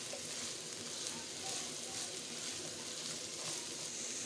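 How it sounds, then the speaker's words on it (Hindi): Capsicum and onions stir-frying with carrots in a pan, a steady dense sizzle that is fairly faint and even, with no talking. "अब हम इसमें शिमला मिर्च और प्याज ऐड करेंगे और 1 मिनट तक हम इनको भी गाजरों के साथ फ्राई करेंगे।"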